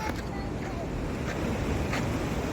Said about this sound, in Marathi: तर आता भरती आहे समुद्राला, त्यामुळे समुद्रही बऱ्यापैकी खवळलेला आहे.